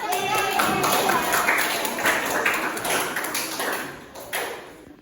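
Clapping from a classroom audience for a student presentation group, a moderate burst of hands clapping mixed with murmuring voices, fading toward the end.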